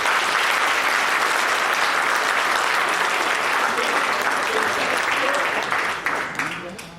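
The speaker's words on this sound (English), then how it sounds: "Give these people a round of applause." A live seminar audience gives a round of applause, dense and steady clapping that carries evenly before fading out in the last second, with a voice faintly audible beneath.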